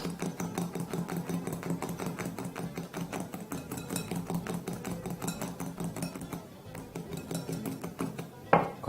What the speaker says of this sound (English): it's also very crucial to not stop whisking until you've got your meringue really stable